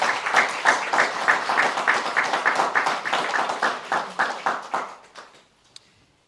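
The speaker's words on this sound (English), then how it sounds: "let's give Maria another well-deserved round of applause" At a Kwanzaa celebration in Holyoke, a crowd applauds in a steady, rhythmic clapping that holds for several seconds and then thins out and fades to near silence.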